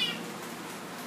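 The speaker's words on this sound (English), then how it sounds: "It's just a little baby kitten too." A small kitten in a cage at a city animal shelter gives a brief, faint meow at the start, followed by quiet room noise.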